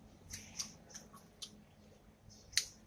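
Crunchy chewing of a tiny coconut sprout: several sharp, crisp crunches at irregular intervals, close to the mouth and fairly quiet, with the last bite the loudest.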